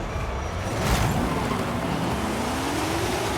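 Classic race car in Forza Horizon 5 revving loud and close, a rising engine note climbing steadily as it launches and accelerates away, with a brief burst of tyre noise near the start.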